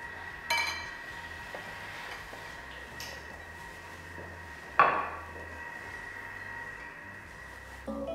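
Quiet kitchen ambience while the counter is cleaned up during mooncake baking, with a few scattered clinks of dishes and utensils, one sharper clatter in the middle.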